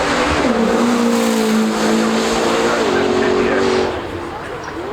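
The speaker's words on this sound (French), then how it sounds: "McLaren's running up the hill" McLaren P1 racing up the Goodwood hill, a loud engine note with gear-change pitch drops and tire noise, under a commentator's talk before fading slightly at the end.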